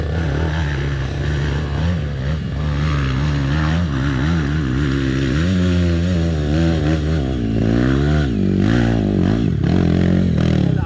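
A trail motorcycle labors up a dirt trail with its engine revving hard, the pitch rising and falling repeatedly as the throttle is worked, loud and close throughout.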